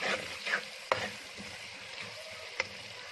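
Chicken frying in spiced masala in a pan for a karela gosht curry, stirred with a utensil: a soft steady sizzle with several sharp scraping knocks, moderately quiet and close, no talking.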